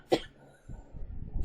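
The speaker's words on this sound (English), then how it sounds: "I have a really nasty cough" A single sharp, nasty cough bursts out near and loud from someone ill with COVID, followed by a stretch of low room noise and shuffling.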